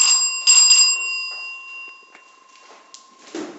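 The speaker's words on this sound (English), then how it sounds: "There's our bell there, give it a little ring." A bright electric bell rings close by in the pit of a 1980 Furse lift. It gives a sustained metallic tone in a couple of strikes, then fades, with faint shuffling and footsteps afterward.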